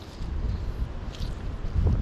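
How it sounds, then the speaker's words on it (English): Gusty wind beside a trout stream rumbles across the microphone in low, uneven buffets that swell and ease over a couple of seconds, with no voices. "It just got extremely windy out of nowhere."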